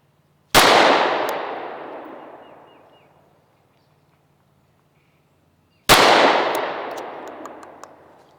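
Two loud, close gunshots from an SCCY CPX-2 pistol, several seconds apart. Each is a sharp crack followed by a long ringing decay, with no talking.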